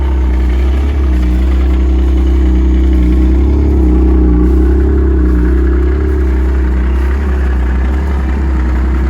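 A 2012 Yamaha Venture GT snowmobile engine idling up close, loud and steady with a deep, even rumble throughout, no talking.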